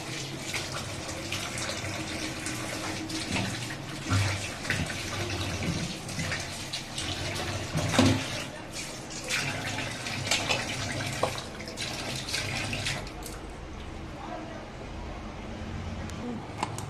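Running tap water splashes steadily while cucumber and lemon are washed in a kitchen, with shifting gushes and light clatter. Voices talk over the water at times, and the flow quietens near the end.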